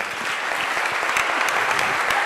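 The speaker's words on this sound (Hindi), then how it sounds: "जोरदार तालियों के साथ स्वागत करें।" Loud, sustained applause from a large crowd at a satsang gathering in Indore, welcoming a spiritual guest with dense, continuous clapping throughout.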